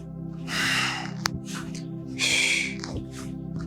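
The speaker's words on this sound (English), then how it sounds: "Inhale as you push up." During a yoga session, two long breathy inhalations come through the nose while moving, each lasting about a second with a sharp snorting edge, close and fairly loud, separated by a quieter pause.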